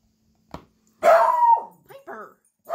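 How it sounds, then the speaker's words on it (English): An indoor dog lets out a short yip followed by one loud, drawn-out bark and a couple of softer trailing barks, close to the microphone, with no talking over it. "Sorry, that was my dog."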